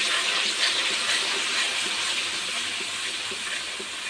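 Spices with turmeric, ginger and garlic fry in hot oil in a pan for a Bengali chholar dal curry, giving a loud, continuous sizzling hiss that tapers slightly toward the end.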